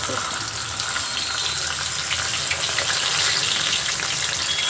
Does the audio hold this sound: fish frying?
yes